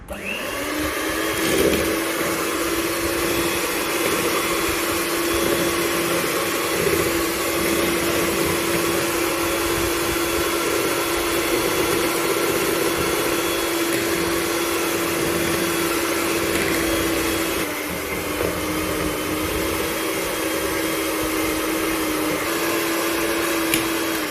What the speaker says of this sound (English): we will slowly add the flours and our other dry ingredients and mix it.